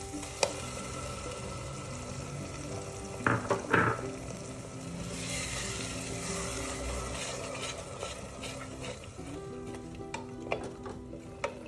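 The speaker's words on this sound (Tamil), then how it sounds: "இது கூடவே அரைச்சி வச்ச தக்காளி போட்டுடலாம்" Ground tomato paste dropped into hot oil in a frying pan while cooking tomato rice, with steady sizzling and frying, a brief burst of stirring and pan clatter partway through, close and continuous throughout.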